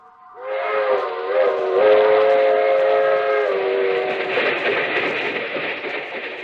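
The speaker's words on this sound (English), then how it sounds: "That train is the Southeast Limited. See it? Long, sleek, and powerful, clicking off the miles and the humming rails." The Southeast Limited, a long passenger train, rushes past with a sustained steam-style whistle blast and rumbling wheels on the humming rails, loud and close, swelling then trailing off as a radio drama effect.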